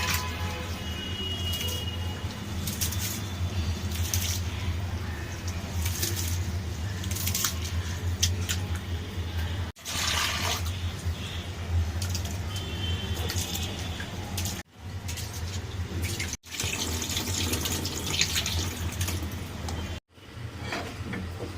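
Rice being rinsed and washed in water, with a steady running wash and splashing that carries on through the clip, broken by a few abrupt pauses, close by and without talk.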